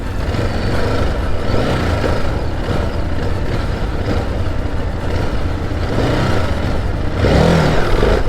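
A motorcycle engine at a gymkhana event in an arena, revving loud and close with a continuous, gritty roar that swells slightly near the end.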